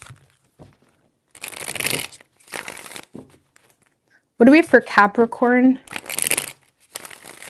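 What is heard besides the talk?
shuffling tarot cards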